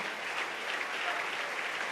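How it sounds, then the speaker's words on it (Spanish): A church congregation applauds during a Spanish-language sermon: a short, moderately quiet burst of many hands clapping, even and continuous for about two seconds. "Dele ese aplauso si es para el Señor."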